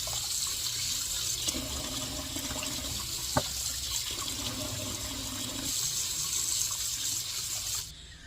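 Packs of sausages rinsed under a running kitchen tap: a steady, close hiss of flowing water with small shifts as the links are moved, and one brief knock midway.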